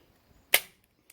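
A single sharp crack from a Beeman P17 air pistol fired in a backyard, close and brief with a quick decay, surrounded by near silence.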